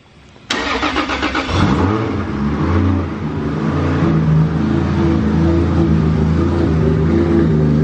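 Brand new 3.4L Toyota 2JZ engine fires up on a dyno after a short quiet moment, then settles into a loud, steady, rumbling run that stays strong and close for several seconds, with no voices.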